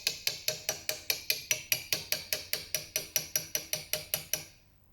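Chisel struck into wood while squaring a corner for door moulding, about twenty rapid, evenly spaced sharp taps, close and loud, stopping abruptly.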